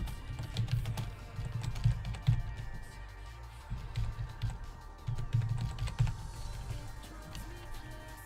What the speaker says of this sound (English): I'm gonna have to type that.